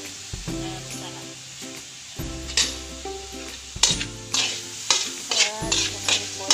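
Food stirred while frying in a pan with sugar and seasoning just added, a spoon scraping and clattering in steady bursts over a constant sizzle, with faint tonal background sound.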